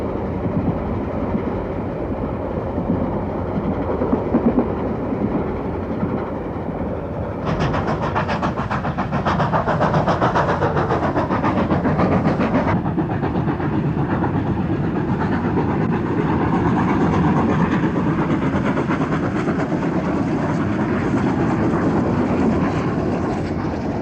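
Steam locomotive 3801 hauling a train steadily along a standard gauge line, with a continuous rumble and rhythmic clatter that swells partway through, heard at moderate distance without voices.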